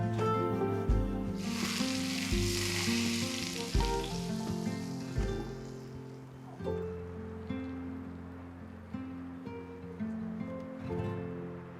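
About two tablespoons of hot oil are poured over Sichuan peppercorns, dried chilies and bamboo shoots on a vegetarian pickled-fish dish, setting off a loud, bright sizzle that fades after a few seconds. Soft background music plays underneath.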